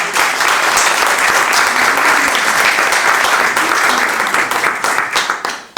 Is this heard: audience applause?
yes